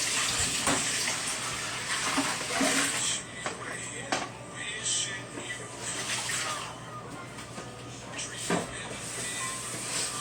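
Tap water gushes steadily into a pot on the stove for a copycat Olive Garden Zuppa Toscana soup, a loud continuous pour with a low hum underneath throughout.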